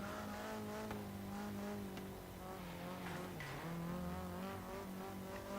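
A Nissan 240SX drifts in Forza Horizon 3 with traction control off, its engine droning steadily in second gear while a strained tire squeal sweeps up and down, held at a moderate, fairly distant level throughout.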